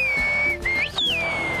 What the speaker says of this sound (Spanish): Yo la suelo llamar con un silbido, a ver si me hace caso